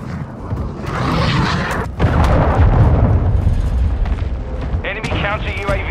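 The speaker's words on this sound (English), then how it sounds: "Hostile cruise missile incoming." Cruise missile explosions in Call of Duty Modern Warfare II ground war, heavy booming blasts and rumbling debris that continue loudly for several seconds while a voice talks over them.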